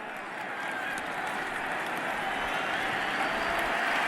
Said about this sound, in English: Well, here comes the applause.